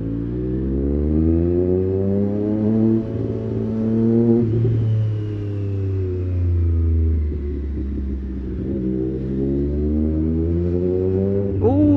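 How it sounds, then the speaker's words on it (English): A motorcycle passes on a New York City street, its engine a loud, near, steady drone that swells and shifts pitch for about twelve seconds, with road rumble underneath and no talking. "Ooh, another motorcycle."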